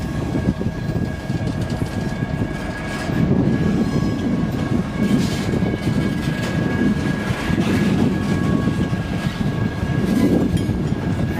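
CN freight tank cars, some rusty, roll past during switching in Pembine, a loud, steady rumble and rattle of wheels and car bodies with faint rhythmic clacking and a thin squeal, heard close throughout without talk.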